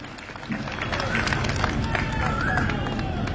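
A dense crowd claps loudly at a political gathering, the applause a steady, sustained roar of many hands across the whole stretch with no clear breaks.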